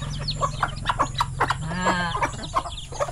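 Chickens cluck repeatedly close by in a rural countryside yard, short rhythmic clucks over a low steady hum, with one longer drawn-out call in the middle.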